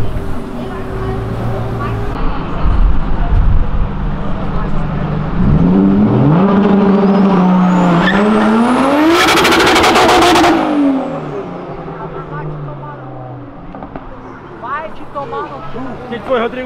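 A tuned BMW 1M accelerates hard along a street, engine revving and climbing in pitch through the gears to a loud close peak before fading away, with people talking over it.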